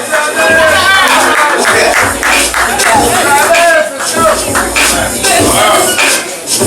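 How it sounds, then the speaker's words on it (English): A comedy club audience in Harlem claps and cheers loudly, a dense roar of applause and whoops with a voice calling out over it. "Ladies and gentlemen, make some noise for the Comedy Styles of Travis."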